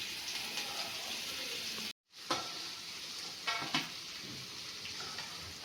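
Blue crab curry ingredients roasting in oil in a pan: a constant, fairly quiet sizzle with a short silent break and a few louder spatters and stirring scrapes.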